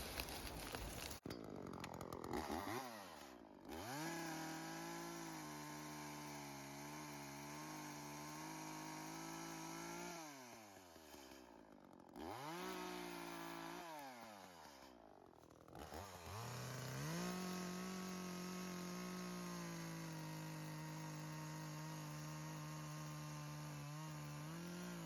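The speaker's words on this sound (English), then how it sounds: "if I cut the tree at a neutral level and get rid of the bulk of it, then I can concentrate on getting a close cut to the ground" Chainsaw cutting down a tree while clearing a hiking trail, revving repeatedly in bursts with dips between cuts and a long sustained rev at the end, heard from a moderate distance.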